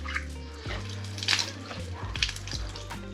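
Water gushes steadily from an artesian bore at an outback Queensland dam campsite, its flow reduced to about half. The rush is close and continuous, with a low hum underneath and brief splashy surges.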